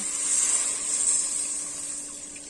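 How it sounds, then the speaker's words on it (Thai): Water is poured from a vessel into a cooking pot for a Thai bamboo shoot and pork bone soup, giving a steady, fairly loud hissing rush close by with no talking. "เติมน้ำลงไปนะคะ"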